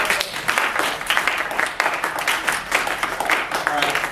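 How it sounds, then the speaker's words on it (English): An audience at a short film presentation claps steadily, with dense, lively applause and scattered louder claps that carry on throughout at a fairly close, full volume. "Clap it up,"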